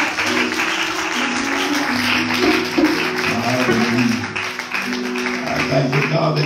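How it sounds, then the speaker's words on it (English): A church congregation claps along during a worship service, steady applause under singing and voices, with sustained musical tones throughout. "Clap your hands with Jesus."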